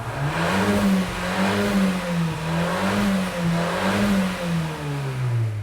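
A Fiat Abarth compact sport SUV revving in neutral: its engine note rises and falls in a wavering, repeated pattern, loud and close, with a throaty hum and no voices over it.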